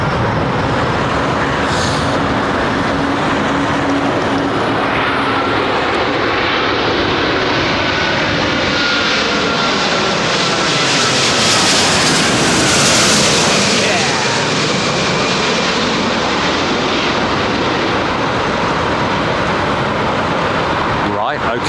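An Airbus A380 jet airliner comes in to land, its engine roar swelling to a loud peak as it passes close, then fading away, with people talking underneath.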